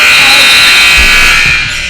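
A loud, steady electronic buzzer sounds at the end of a period in a summer league basketball game, holding a strong continuous tone for the full two seconds over faint arena noise.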